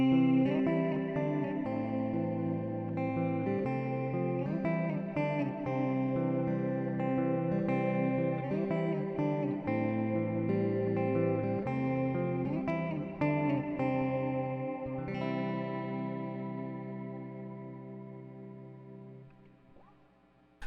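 Electric guitar chords played through a Flamma FS-02 reverb pedal ring out with a lush, washy reverb tail, sustained and continuous, fading into a long decay at the end.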